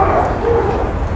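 A puppy makes short yips and barks during obedience training, close by and fairly loud, mixed with a voice giving commands.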